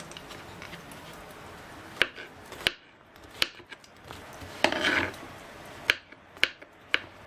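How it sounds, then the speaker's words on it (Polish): Sharp knife strikes on a board while dicing mushrooms, scattered and irregular, with quiet gaps between a few quick cuts, close and fairly faint. "I tak kroję te moje wszystkie pieczarki w kostkę drobną"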